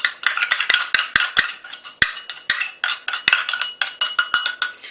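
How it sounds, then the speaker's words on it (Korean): One cup of rice tipped into a cooking pot for shrimp fried rice makes a loud, close run of crisp, rapid clicks and rattles that continue steadily throughout. "쌀 냄비에다가 이렇게 해서 넣어주세요."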